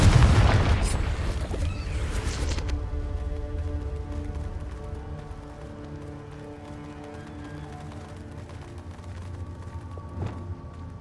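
A Confringo spell explodes in the Hogwarts Legacy video game, a loud booming blast at the start whose rumble and ringing decay slowly over several seconds, with a smaller pop near the end.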